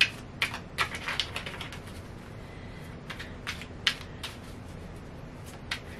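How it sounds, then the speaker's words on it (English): A deck of tarot cards being shuffled by hand, soft riffling flicks and taps in short irregular bursts, quiet and close, with no talking. "So let's kind of shuffle."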